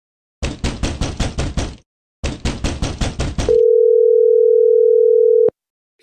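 Phone call in Sakura School Simulator: two loud bursts of rapid, evenly spaced electronic pulses, a pause between them, then a steady continuous tone that cuts off abruptly with a click.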